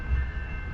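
Amtrak's southbound Coast Starlight, train 11 bound for Los Angeles, arrives at Martinez, California, with a steady horn tone over a deep rail rumble in a brief, loud burst.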